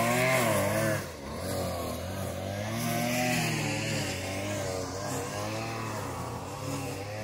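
A lawnmower engine cranking and catching, a loud steady mid-pitched drone with wavering tones that dips briefly near the start and then holds on, close and alone without talk.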